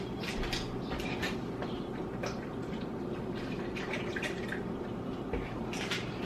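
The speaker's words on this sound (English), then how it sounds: "I'm going to add just a little tiny bit more beef stock." Beef stock pours into a braised pot roast in the pot, a continuous close liquid trickle and splash with scattered drips, steady throughout.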